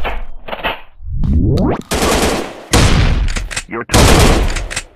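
Sniper rifle shots in the mobile shooter Sniper Master 3D, several loud sharp blasts with sweeping game effects between them, while a game announcer voice calls out over the action.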